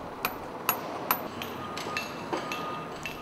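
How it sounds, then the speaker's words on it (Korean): Sharp, sparse metallic taps from a bush hammer dressing a granite block for the Sungnyemun fortress wall restoration, about eight irregular strikes over a low steady background, fairly close, with no talk. "정으로 표면을 고르게 다듬고 도드락 망치로 두드리면 성곽에 놓을 돌 하나가 완성됩니다"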